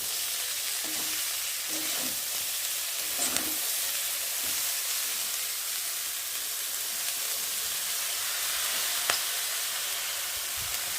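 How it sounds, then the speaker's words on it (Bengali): Cabbage frying with potatoes in a pan gives a steady, close sizzle throughout, broken by a few soft scrapes as the vegetables are stirred. "আর এখন আমি বাঁধাকপিগুলোকে ঢেলে দেবো অল্প অল্প করে আগে একটু নেড়ে নি"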